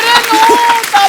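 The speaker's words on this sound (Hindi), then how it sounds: "जोरदार तालियां हमारे तीनों जजेस के लिए।" Studio audience applause for the three judges on a TV comedy show, a short loud burst of clapping with a voice and music running through it.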